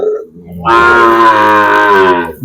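A Sahiwal calf gives a single loud, sustained moo lasting nearly two seconds, close by, following a brief lower grunt.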